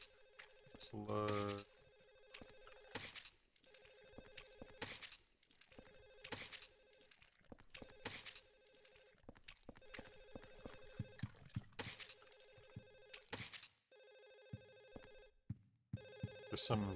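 A telephone rings repeatedly inside a Silent Hill 4 game scene, a steady pattern of bright ringing bursts roughly every one to two seconds, moderately loud, with a few brief game sound effects mixed in.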